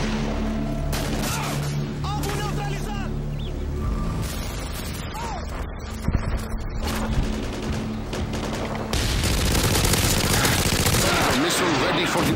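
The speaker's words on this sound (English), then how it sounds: "Come on, sentry gun, give me some kills." Automated sentry gun firing in Call of Duty: Modern Warfare 2 team deathmatch on Xbox 360, sustained rapid gunfire and explosions throughout, with in-game voices and music mixed underneath.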